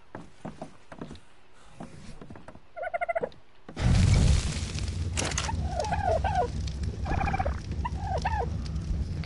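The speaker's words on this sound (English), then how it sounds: "Birds are so annoying." Birds in the video game Ark: Survival Evolved let out repeated gobbling, fowl-like calls, close and clear. A sudden loud thump and a steady ambient rumble from the game run underneath, with no talking.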